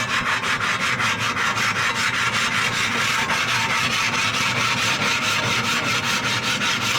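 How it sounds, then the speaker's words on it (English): A pumice stone scrubs rust and oil off a steel plancha for a Lone Star Grillz pellet smoker, giving loud, close, rhythmic rasping strokes repeated steadily with no talk. "I want to take this pumice stone and I'm going to run it around here."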